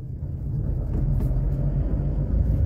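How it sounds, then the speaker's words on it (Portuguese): Camouflaged prototype car passing on a city avenue, a broad, steady low rumble of road traffic and engine noise that stays loud throughout. "Tá passando aqui um carro camuflado, deve ser algum lançamento"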